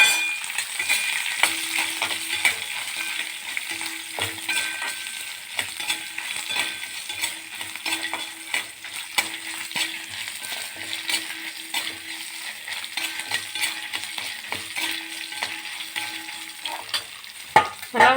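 Dried red chillies fry in a pan with onion, a steady bright sizzle alongside scraping stirring strokes that run throughout, close and fairly loud, with a clatter near the end.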